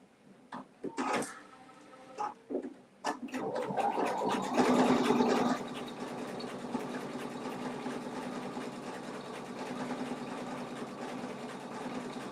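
Embroidery machine stitching an in-the-hoop project: a few short mechanical bursts, then a steady rapid whirring stitch rhythm that runs on continuously, fairly close.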